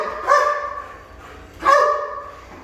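A high-drive dog barks during ball play, two loud, close, sharp barks separated by a short pause.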